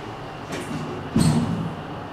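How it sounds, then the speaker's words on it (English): Elevator doors at the Crown Regency Hotel and Tower slide shut with a soft swoosh followed by a dull thump, heard close against a steady background hum of the car. "Doors are closing."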